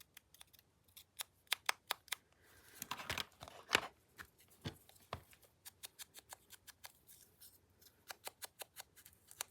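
Tiny scissors snip and roughen the edges of thick paper in a series of short, crisp, closely spaced cuts, with a brief denser rustle partway through, close and fairly quiet with no talking.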